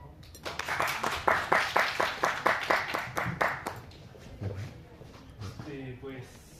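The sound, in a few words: audience applause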